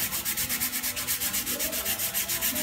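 A plastic bristle brush scrubs a rusty barbell in steady back-and-forth strokes, a close, rhythmic raspy rubbing repeating about every quarter second.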